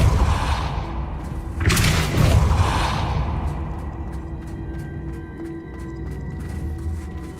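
Depulso spell cast in Hogwarts Legacy: a loud whooshing thud bursts out near the start, then trails off into a lower rumble over ambient game sound.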